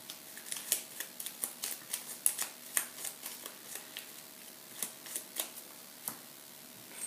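Playing cards are shuffled close up in a rapid run of crisp riffling clicks and snaps, with no one talking.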